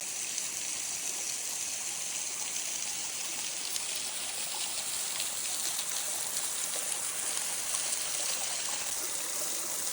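O'Neill Waterfall splashing into the pool at its base, a loud, steady, close roar of falling water with no other sounds.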